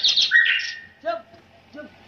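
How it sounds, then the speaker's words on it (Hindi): A bird's bright, quick chirping during a Hindi folk nautanki stage performance: a short cluster of high tweets at the start, close and clear, followed by quieter sounds with a faint voice. "चिड़िया बोल रही है"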